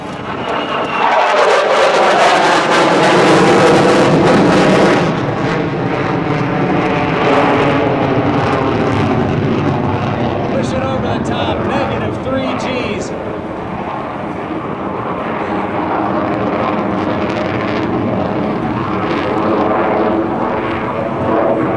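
An F/A-18F Super Hornet jet roars through a 2006 MCAS Miramar airshow demonstration, loud and continuous with a swelling pass and a sustained rumbling tail, with an announcer talking over it.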